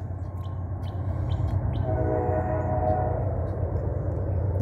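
A train rolls past out of sight behind trees near a mountain track, a loud steady low rumble with rail rattle and a faint ringing tone, while birds chirp sharply over it.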